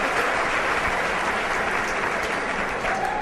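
A large audience claps for a speaker taking the stage at a motivational seminar, a dense, continuous roar of applause filling the room evenly throughout.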